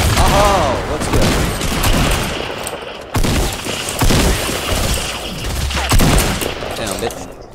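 Dense, loud bursts of gunfire from a Fortnite match ring out almost continuously, with rapid shots, crashing impacts and breaking sounds layered together, while voices talk over the fighting.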